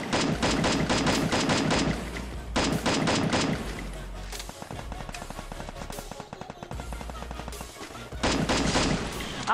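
Rapid bursts of automatic gunfire in the Free Fire mobile shooter game, loud repeated volleys with short pauses between them, close and dominant throughout.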